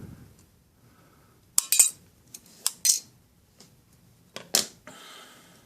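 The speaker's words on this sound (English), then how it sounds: "I'll cut it on one side, then I'll come over and I'll cut the other side." Aluminum sheet being cut for model car fender wells, giving a handful of sharp, close metallic snips in irregular bursts with quiet gaps between them and no talking.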